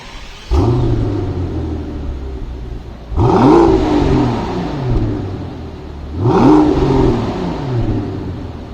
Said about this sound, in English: we'll take a listen to how the exhaust sounds on the V12